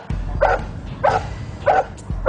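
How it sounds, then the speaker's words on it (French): A muzzled police dog barks during an arrest demonstration, four sharp, evenly spaced barks standing out loud and close against a quiet background. "Immédiatement, c'est sanctionné par l'intervention du chien muselé."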